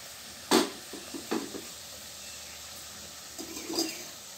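Soft sizzle of luchi frying in hot oil, quiet and steady, with a few brief clattering stirs or pan knocks near the start and end.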